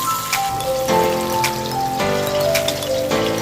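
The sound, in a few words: potatoes frying in oil for hilsa fish curry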